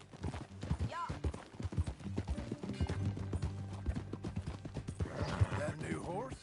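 Horse hooves clip-clop at a steady walking pace in the Red Dead Redemption 2 video game, with a brief whinny, as people talk over the footsteps.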